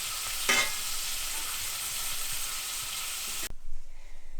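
Pieces of liver frying in a pan, a dense, close sizzle with light stirring scrapes that cuts off abruptly partway, leaving quieter handling sounds behind.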